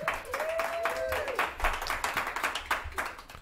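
A small audience claps for a guest on a local talk show, with scattered, uneven hand claps rather than a full roar, along with a sliding whistle-like tone near the start and some voices mixed in.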